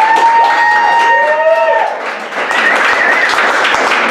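A comedy club crowd at a Wayward Wednesday stand-up show breaks into applause and cheering, the clapping building into a loud, sustained wash of noise after a few tonal vocal sounds at the start.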